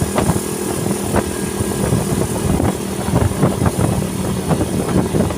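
Motorcycle engine running nearby with a steady broadband rumble and irregular pops or knocks, loud and continuous with no speech, on a motorbike that had suddenly stalled.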